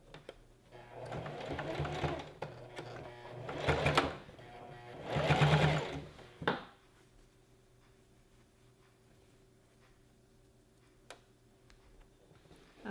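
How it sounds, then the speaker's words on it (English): A sewing machine stitches down the raw fabric edge of a gathered maxi dress in three short loud bursts, the last one brief, then the room falls quiet apart from a faint hum and a single tick. "we're just gonna sew it down right at the edge just to finish it off so all these raw edges are not showing"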